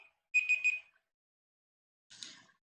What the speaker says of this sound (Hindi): टाइमर स्टार्ट हो चुका है